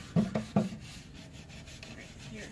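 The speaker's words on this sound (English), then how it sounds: "Getting all that old finish off of it." Old finish is scrubbed off a wooden table after citrus stripping, with three quick, rough rubbing strokes up close followed by a softer, continuous scraping rub.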